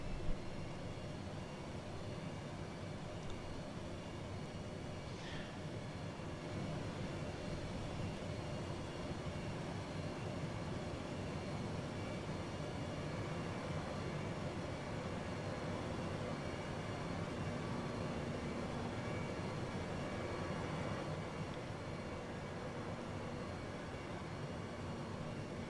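F-22 Raptor jets on a formation takeoff at RAF Coningsby in the FSX flight simulator, a steady, droning engine roar that holds at a moderate level throughout with no talking.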